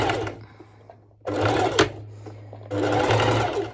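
A sewing machine stitching fabric whirs in three bursts of fast stitching, separated by short pauses, close and fairly loud, with a low motor hum underneath.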